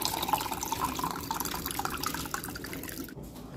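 Tap water runs steadily into a cup at a kitchen sink for a few seconds, with faint drips and splashes, fairly close, and no talking.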